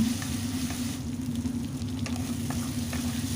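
A garlic and spice masala paste fries in oil in a pan, a dense, steady sizzle with a low hum beneath and a few faint stirring taps.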